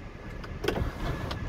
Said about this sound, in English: Inches up if you need the extra air.